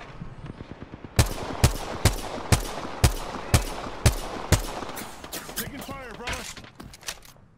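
Gunfire in the video game Apex Legends: about eight sharp, evenly spaced shots ring out loud and close, followed by scattered softer impacts and whizzing sounds, with a voice speaking in the background.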